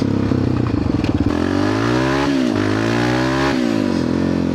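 A Yamaha Raptor 700R ATV with an HMF exhaust idles with a loping clatter, then revs up hard and holds a loud, rising roar, easing off and climbing again, close by with no talk.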